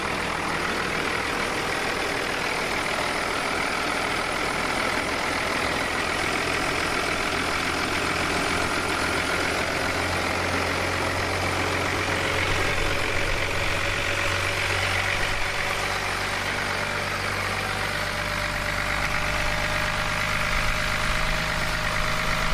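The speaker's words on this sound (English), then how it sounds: "High idle's kicking in because it's cold." A 2001 Dodge truck's Cummins 24-valve diesel engine runs at a cold high idle, a steady, loud and close drone with a low throb that holds evenly throughout, no voices.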